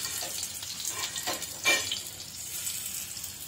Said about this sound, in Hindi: तो अब हम शैलो फ्राई करेंगे